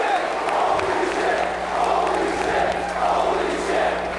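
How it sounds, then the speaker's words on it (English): A wrestling crowd roars at an indoor street fight after a ladder dive, a loud, sustained wall of cheering and shouting that rises and falls in waves. "This crowd going nuts, and they should be."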